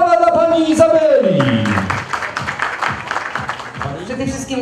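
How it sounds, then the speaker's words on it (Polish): A concert audience claps for guest singer Izabela at a birthday concert. A raised voice carries over the start, then a dense patter of applause follows beneath continued speaking. "brawa dla pani Izabeli!"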